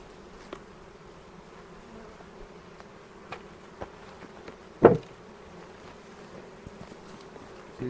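Honey bees hum softly during a hive inspection, a low continuous drone with occasional nearer buzzes and a few small knocks and clicks from handling.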